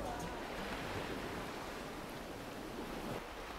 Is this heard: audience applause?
no